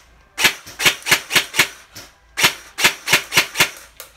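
A G&G ARP-9 airsoft gun with an electric drum magazine fires in two rapid bursts of sharp, crisp clicking shots, loud and close, separated by a brief pause.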